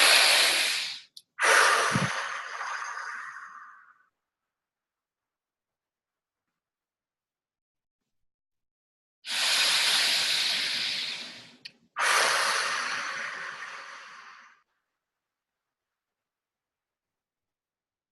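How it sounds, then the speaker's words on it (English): A person takes slow, deep, audible breaths, each long inhale followed by a longer, drawn-out exhale. The breaths are close and alone, with two breathing cycles separated by silence. "we're going to do 3 more breaths where we take a deep breath in, one you can hear, and exhale twice as long as your inhale"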